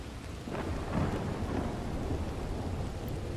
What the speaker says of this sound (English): Alright, some distance lightning here.